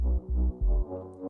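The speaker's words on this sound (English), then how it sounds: "And I've layered that with the 808 sub bass," A synth flute bass line layered with a deep 808 sub bass plays three short pulsing low hits, then a longer sustained note, all brief and close.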